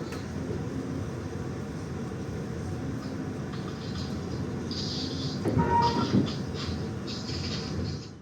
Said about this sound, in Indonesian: Pukul 21:52 kereta api Mataramaja berangkat dari stasiun